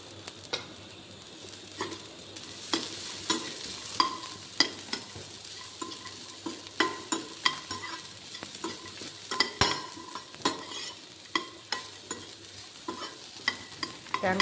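Peanuts roast in a pan and are stirred with a spoon, with a soft steady sizzle and repeated scraping clicks and taps throughout, close and fairly quiet.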